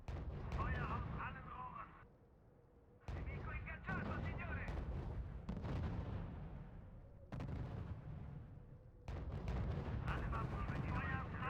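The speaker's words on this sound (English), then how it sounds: "Unit reports heavy fire." Booming artillery and gunfire in the World War II strategy game R.U.S.E., coming in loud repeated bursts and salvos separated by short lulls, with a voice occasionally heard between them.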